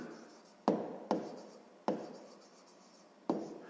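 Numbers being handwritten for a sixth-grade math exercise, four sharp pen-on-paper strokes and scratches at an uneven pace, close and quiet with no speech.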